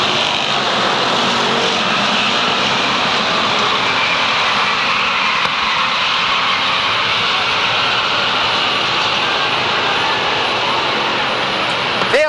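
Strictly stock cars race in a 50-lap event at Waterford Speedbowl in 1991, a dense, continuous engine roar from the pack filling the whole stretch at steady loudness.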